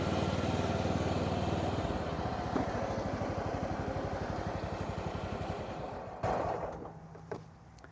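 A riding lawn mower engine is started and run as the machine is driven into winter storage, a close, steady chugging drone with rapid pulsing that holds throughout, with no talk.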